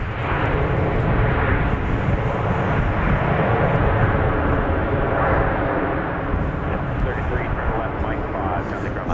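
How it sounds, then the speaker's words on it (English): A Boeing 737-700 from St. Louis landing at Dallas Love Field: a loud, close, continuous jet roar that holds steady and fills the whole stretch. "I think we just had a plane landing that we were not anticipating. That was flight 33 from St. Louis, a 737-700."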